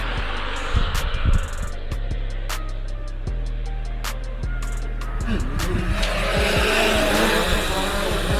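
Drone motors spinning up to full throttle, with a steady high whine and sharp clicks that give way to a rougher, louder, wider roar in the final seconds.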